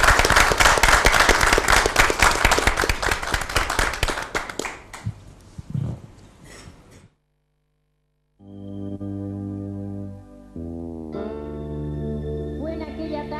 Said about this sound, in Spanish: Nos despedimos desde acá humildemente con un aplauso por el cumpleaños de Formosa.